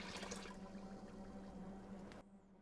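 Water pours steadily into a bowl of powdered milk, a close, continuous splashing stream that stops abruptly near the end.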